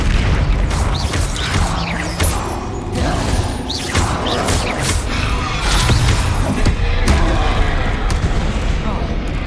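Blasting spell explosions in the wizarding video game Hogwarts Legacy: several booming impacts and crashing bursts in quick succession, mixed with combat noise and a voice calling out spells.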